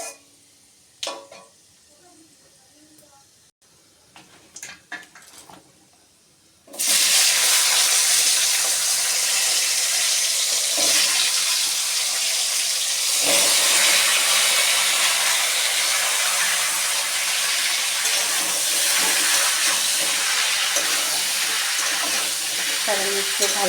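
Chopped vegetables drop into a hot pan for Bengali bottle gourd greens with bori, bursting into a loud, steady sizzle that holds for many seconds after a quiet start with light clinks.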